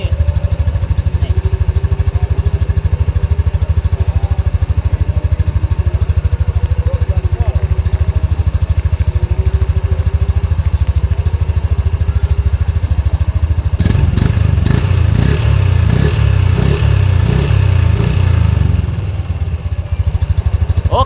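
A Yamaha Lexi LX 155 scooter engine idles loudly and close, then is started and revs with sharp bursts and clattering in the second half.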